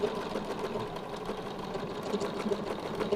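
A sewing machine stitches a quilt border design in a continuous even mechanical hum with a faint rapid needle patter, steady and moderately quiet throughout.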